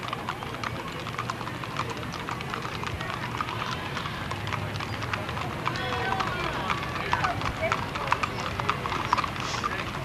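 Hoofbeats of several horses, including a gray and an Appaloosa, clip-clop steadily along a street in a Memorial Day parade, with crowd chatter and voices talking over the continuous rhythm.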